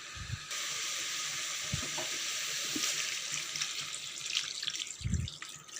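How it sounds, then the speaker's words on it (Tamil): Water poured into a pot of simmering chicken gravy, a continuous hissing, splashing pour with faint sizzling and a few low knocks against the pot, fairly quiet and without talk. "இப்போ இதுக்கு தேவையான அளவு தண்ணி ஊற்றி மூடி வச்சு நல்லா வேக விட்டுறலாம்."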